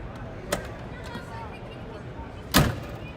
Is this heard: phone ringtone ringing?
no